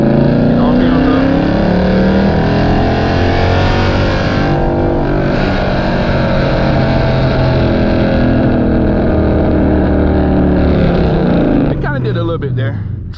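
A catless Dodge Challenger engine held in first gear and revved hard, a loud, continuous, droning exhaust roar that stays near and sustained throughout, with a sharp change near the end.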